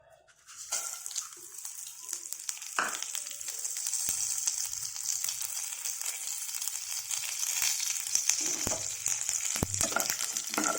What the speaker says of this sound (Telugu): పోపు దినుసులు వేసుకుందాం